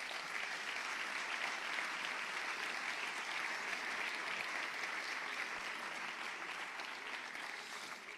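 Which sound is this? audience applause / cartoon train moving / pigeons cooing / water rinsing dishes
audience applause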